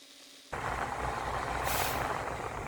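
Truck air brake system with dual air tanks at normal operating pressure: a sudden loud broadband hiss bursts in after a quiet start and holds steady, brightening briefly partway through, like a governor cut-out purge near the cab.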